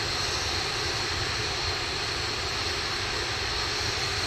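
An Atlas V rocket's RD-180 engine thunders during launch past Mach 1, a dense, unbroken broadband roar that stays loud and steady throughout.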